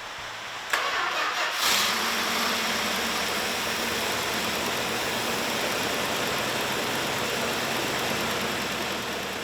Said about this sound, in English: it was a nice reward to hear that 440 Magnum start for the first time